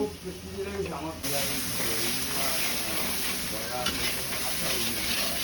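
Masala with turmeric and salt sautéing in a pan before cauliflower and potato go in, a loud close sizzle that jumps up abruptly as ingredients hit the oil, then hisses steadily with stirring scrapes, a voice talking softly underneath.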